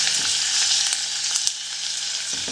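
Chopped onion sizzling and frying in hot fat in a kitchen pan, a steady, loud crackling hiss with small pops and no talking.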